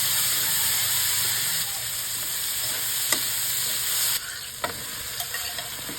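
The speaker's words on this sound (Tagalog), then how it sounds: "Simulan na nating igisa ang bawang at isunod natin ang sibuyas. Isunod ang kamatis." Garlic, onion and tomato sautéing together in a pan, a continuous moderate sizzle and hiss with occasional sharp clinks and scrapes of stirring toward the end, no one talking.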